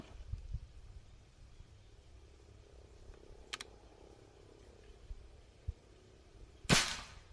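A GCMAG airsoft rifle fires at a cardboard target, producing a few sharp, close pops, the loudest near the end, with faint handling noise between shots and no talk.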